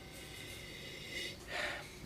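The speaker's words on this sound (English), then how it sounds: "Let's give it a sniffy sniff." A person sniffs wine held in a glass, two short breathy inhalations close to the ear, the second stronger, over a quiet room.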